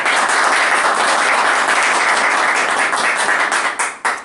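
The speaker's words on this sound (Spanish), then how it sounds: "Un aplauso para" An audience welcomes a guest writer with loud, dense applause that sustains strongly, then breaks into a few final claps and trails off at the end.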